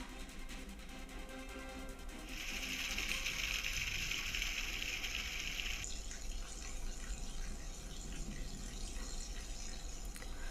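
Steady, moderately faint wash of falling water in a heavy downpour, a constant hiss with a brighter splashing stretch partway through; no voices.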